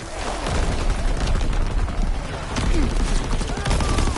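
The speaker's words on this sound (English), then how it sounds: "Incoming enemy artillery. Get the cover." Dense, sustained barrage of gunfire and artillery blasts from an online war video game, loud and continuous throughout with a player's voice briefly audible over the rumble.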